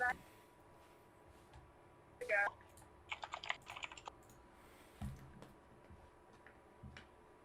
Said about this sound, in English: I am in voice chat. I'm just typing.